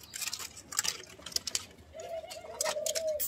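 Soft pigeon cooing rises over faint background noise, with scattered chirps and rustles, and a sustained coo in the second half.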